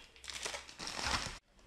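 A plastic refrigerator bag is handled up close, giving a brief, loud burst of dry crinkling and rustling that stops abruptly.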